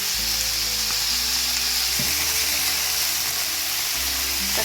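Food frying for pilaf in a multicooker, a steady sizzle with soft stirring scrapes over a low appliance hum, close and continuous with no talking.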